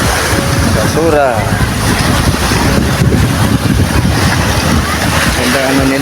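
Big waves and strong wind at a seaside spot in Mati, a constant loud roar of surf with wind buffeting the microphone throughout.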